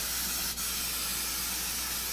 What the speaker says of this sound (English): So we're going to go ahead and just spray the pan down.